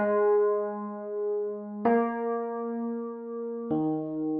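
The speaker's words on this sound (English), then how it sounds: "So then all we do from there is we just build a little bass chord progression." Three sustained, harmonically rich bass chords change one after another at a steady pace, each ringing out smoothly with no voices present.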